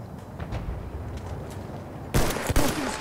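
Bursts of Battlefield 1 gunfire in a multiplayer match: a steady low rumble of distant shooting, then a loud, close volley of sharp cracks erupting in the last second, with no speech over it.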